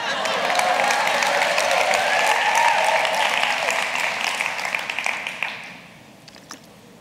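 Applause from a church congregation, dense clapping mixed with a few cheers, steady and loud for several seconds before tapering off to scattered claps.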